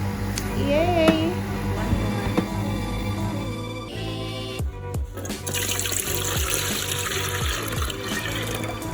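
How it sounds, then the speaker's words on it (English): Otaheite apple juice runs from a juicer in a steady liquid trickle and splash, continuous and close, with a humming motor-like drone underneath and some brief clatter. "This is a natural juice that is flowing through."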